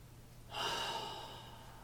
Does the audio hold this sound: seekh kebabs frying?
no